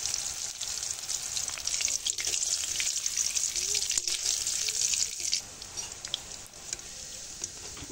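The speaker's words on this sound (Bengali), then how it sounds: "রসুন আর শুকনো মরিচটা দেখুন আমার কত সুন্দরভাবে ভাজা হয়ে গেছে।" Crushed garlic and dried chilies frying in oil, a bright, dense sizzle that drops lower partway through, with faint clatter.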